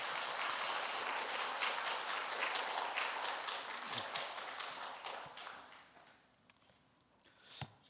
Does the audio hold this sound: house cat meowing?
no